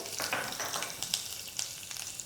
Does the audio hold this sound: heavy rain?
no